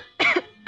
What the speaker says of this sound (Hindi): तीन बार खांसने का मतलब डेंजर, लफड़ा, पुलिस।